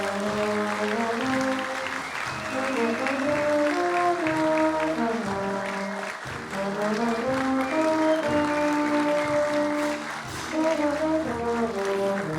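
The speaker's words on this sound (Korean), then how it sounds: "여러분 뜨거운 박수로 축하해 주시면 감사하겠습니다." An audience claps during a Korean military change-of-command and retirement ceremony for the Chairman of the Joint Chiefs of Staff. The steady applause sits beneath loud, continuous band music that fills the whole stretch.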